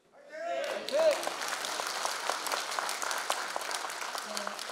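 An audience at a Korean lawmaker's community report meeting breaks into sustained applause, a dense crackle of many hands clapping that rises quickly and holds steady, with a voice briefly heard at the start.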